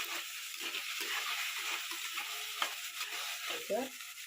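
Tomatoes sautéing in a pan while being stirred, a soft continuous sizzle broken by repeated scraping stirs and a few spoon knocks, close and without speech.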